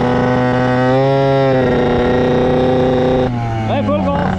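A Yamaha Aerox moped engine revving hard at full throttle, a loud buzzing whine with pitch climbing and then dropping, close by.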